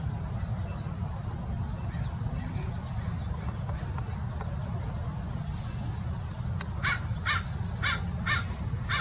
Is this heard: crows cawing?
yes